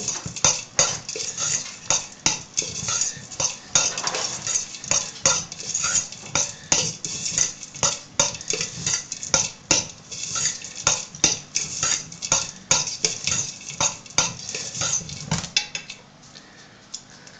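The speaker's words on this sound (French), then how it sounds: "Il faut bien mélanger." A spoon scrapes and clinks steadily against a bowl while a mixture is stirred, with rapid, even strokes and no talk, ending in a brief quieter stretch.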